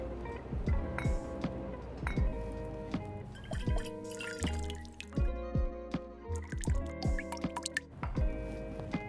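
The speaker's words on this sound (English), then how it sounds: "It's a 1-in-1 rosemary simple syrup, 2/3 ounce, 20 mils into the tin." Rosemary simple syrup poured into a metal cocktail tin, heard as a steady run of close drips and trickles with light clinks of metal and glass throughout.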